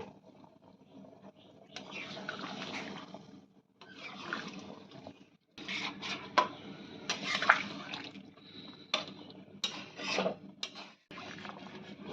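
Hot water poured into a chicken curry with chuijhal, heard as uneven bursts of splashing and bubbling liquid with brief pauses, fairly faint and close.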